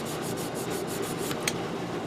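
Steady scratchy rubbing of a sanding stick on a plastic part of a 1/100 Master Grade Full Armor Gundam model kit, continuous back-and-forth strokes, close and fairly quiet.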